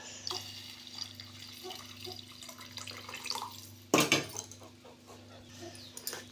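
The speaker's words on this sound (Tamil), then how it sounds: "இப்போ எடுத்து வச்சுருக்க தண்ணியை ஊற்றணும்" Water is poured into a pot of rasam with tamarind extract, a steady splashing gurgle with a sharper splash midway and a faint background hum.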